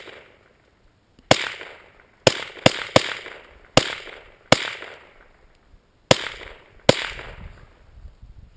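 A suppressed .22 pistol fires CCI Stinger rounds outdoors: eight sharp, loud cracks, each followed by a short decaying tail, spaced irregularly over several seconds with quiet gaps between.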